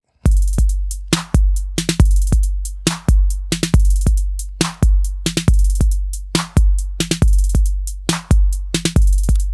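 Software emulation of the Roland TR-808 drum machine running chained drum patterns: booming kicks, sharp snares and clicky percussion hits in a steady, punchy rhythm, loud and close with no voices.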